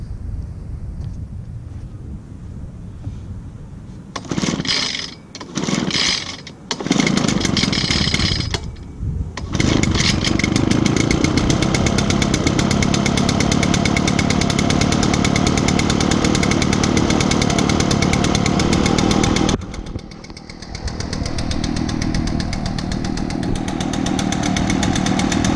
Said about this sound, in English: Definitely a great backpack blower since I've had it for several years.